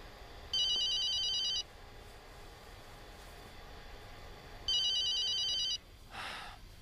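A telephone rings in two bright electronic bursts about a second long each, separated by a pause, with a faint rustle afterward and no speech.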